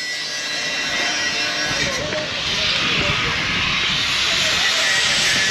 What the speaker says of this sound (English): Oh no, he's fixing something with an angle grinder.